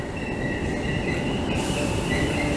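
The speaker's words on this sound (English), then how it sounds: "Meanwhile, another Merseyrail train is approaching." Merseyrail class 508 electric third-rail train, coupled to a second unit, approaching a station platform from Birkenhead Central. Continuous loud rumble and rail noise throughout, with steady high tonal whine from the train and no talk.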